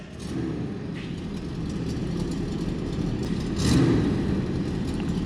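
A 1982 Chevrolet dually flatbed truck with a 454 big-block V8 runs steadily close by, its low rumble holding even and rising briefly near the end.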